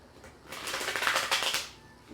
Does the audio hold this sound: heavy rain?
no